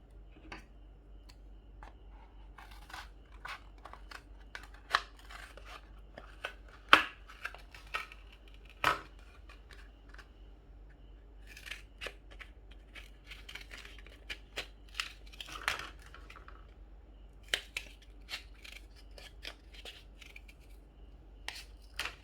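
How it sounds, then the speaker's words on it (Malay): Scissors cut paper into eight pieces with a run of faint, close snips and crisp clicks spread irregularly over about twenty seconds, with light paper rustling in between and no voices. "Dan cikgu akan guntingkan dia kepada 8 bahagian."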